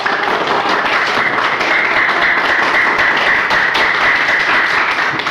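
A classroom gives steady applause after a student group finishes presenting, dense continuous clapping from many hands at close range for several seconds, with no talk over it.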